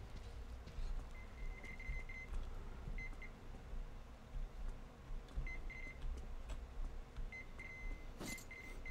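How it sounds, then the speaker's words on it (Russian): Repeated electronic beeping all around in the video game Metro Exodus, short high tones in clusters of two or three recurring every second or so over a low rumbling ambient drone, faint and without speech. "Но пищит кругом все, это да"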